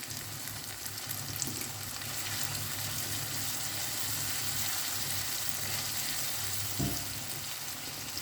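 Tomatoes sauté in a hot pan while a baby shark (sora meen) sambal is being cooked. A steady, even sizzle continues throughout, with a couple of soft knocks from stirring.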